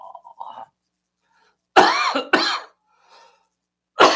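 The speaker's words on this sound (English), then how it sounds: "Oh, don't start coughing." A person coughs in a quiet room, with two sharp, close coughs in quick succession followed by a third a moment later, plus faint murmurs beforehand.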